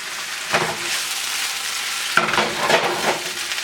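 Cubed butternut squash fries in a hot pan, a steady close sizzle with a few louder bursts as the pieces are moved or stirred, no speech.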